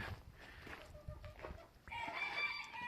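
A rooster crows once near the end, loud and clear after a stretch of quieter background rustling and farmyard noise.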